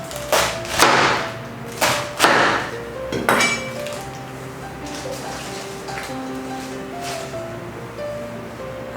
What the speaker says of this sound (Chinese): 然后玉米呢也是整条放下去熬煮